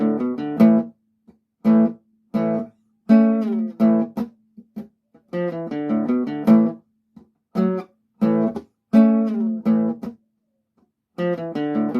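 Electric guitar in DADGAD tuning playing a riff: choppy repeated bursts of chords over a ringing low drone, broken by short pauses, played close and alone.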